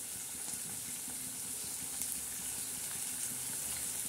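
Semolina for upma roasting in a pan, a soft steady sizzle and faint scraping of stirring, continuous and fairly quiet with no talk.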